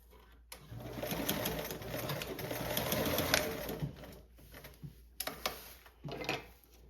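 A sewing machine bastes fabric in a fast, steady mechanical whir that stops, then restarts in a few short bursts, close and alone.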